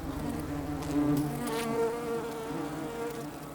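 Many insects buzz continuously around sweet sap oozing from a wound in a birch tree in late summer, their overlapping wingbeats droning close by, with individual flies and wasps passing near.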